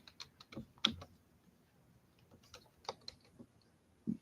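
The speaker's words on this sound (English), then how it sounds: "let me type" Quiet, irregular tapping of keys on a computer keyboard, a few scattered keystrokes and short bursts with pauses between them, heard close but at low level with no talking.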